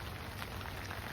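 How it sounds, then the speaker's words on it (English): Rain falls outdoors on a winter day in Oregon, a steady, dense hiss of drops over a low rumble, continuous for about a second with no voices. "Sorry about the rain and the audio, but that's Oregon in the wintertime."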